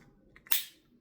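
Lockback of an MKM Hero folding knife snaps shut with a sharp, crisp click, preceded by two faint ticks in a quiet room.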